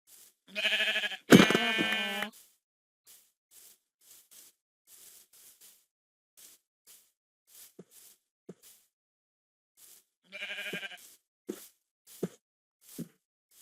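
Sheep in the video game Minecraft give short, wavering bleats: a pair of loud calls near the start and another pair later, with faint clicks and soft tapping scattered through the quiet gaps in between.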